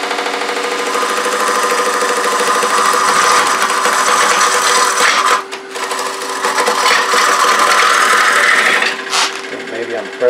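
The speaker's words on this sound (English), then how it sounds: "I'm using my bottom feeder bowl gouge to pick up the cut down here and bring it across" A bowl gouge cuts a cherry bowl on a wood lathe, a loud continuous scraping whir with a steady motor hum, briefly dipping twice as the tool lifts off the wood, and no talk.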